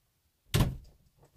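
A house door swings closed with a single firm thud, short and close, with a brief rattle fading afterward in an otherwise quiet room.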